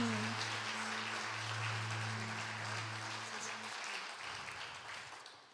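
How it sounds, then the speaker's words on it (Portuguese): A church youth-service congregation in Brazil claps steadily throughout, dense and even, over a sustained low organ or keyboard tone that drops away near the end. "E eu gostaria que você desse uma salva de palmas por isso."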